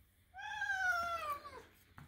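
A kitten gives one long, drawn-out meow that slides gently downward in pitch, close and fairly soft, in a quiet room with faint background hum.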